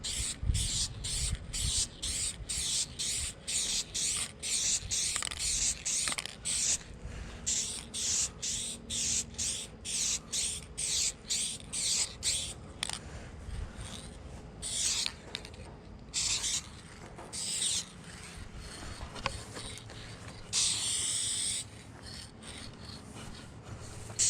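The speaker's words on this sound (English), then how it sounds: "I'm going to go ahead and paint that fender again and then hit that spot on the door once more over here" Short bursts of aerosol spray from a can, laying blue paint on a car fender of a crashed 1999 Honda CR-V, repeated hisses with brief gaps between, close and fairly quiet, with no talking.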